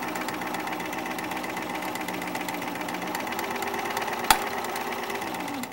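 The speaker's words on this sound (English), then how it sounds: "That click you heard? Sewing over a pin." A sewing machine runs steadily while sewing a seam, giving a fast, even mechanical chatter, then a single sharp click as the needle strikes a pin near the end before the motor slows and stops.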